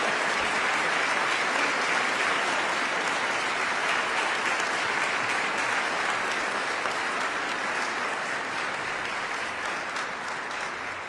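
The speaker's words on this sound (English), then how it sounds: "Please join me in applause to congratulate Professor Allison Kendrick as the Fall 2024 Nursing Faculty Daisy Award" Sustained applause from an audience at a nursing pinning ceremony, honoring a faculty Daisy Award winner, a dense, steady clapping that fills the whole stretch and tapers only slightly toward the end.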